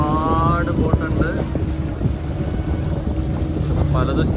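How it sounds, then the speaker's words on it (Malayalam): A tourist boat ride off Goa toward Dolphin Point: steady boat engine drone mixed with strong wind buffeting the microphone and splashing water, with faint voices of passengers. "ഞങ്ങളങ്ങനെ ഒരു ബോട്ട് യാത്രയിൽ"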